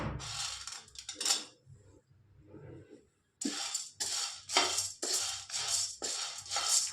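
Dry chickpeas (dalia) being stirred and roasted in a kadai, giving repeated scraping, rustling rasps in close bursts with a brief pause partway through.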